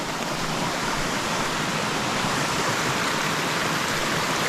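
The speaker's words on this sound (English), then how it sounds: "One more river! I seriously lost count how many rivers and waterfalls we crossed." A river and waterfall rush in a steady, dense roar along a mountain trek on Mount Roraima, loud and continuous with no voices over it.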